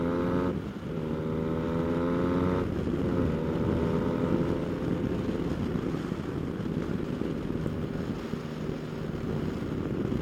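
A 2020 Yamaha Tracer 900 motorcycle accelerates on a test ride, its engine note climbing through a gear change, steady and fairly close, under heavy rushing wind noise with no talk.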